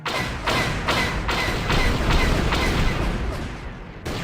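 Gun turrets fire at Sith fighters in the game Knights of the Old Republic, a loud, steady run of heavy booming shots about twice a second, with no talk.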